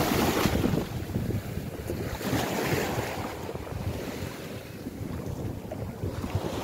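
Waves wash onto a broad beach shoreline at a resort in Cavite where boats are moored, a continuous rushing surf heavily mixed with wind buffeting the microphone.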